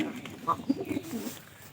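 Pigeons kept with their squabs make a few soft, low coos in quick succession, faint and close, with a murmur of voices faintly underneath.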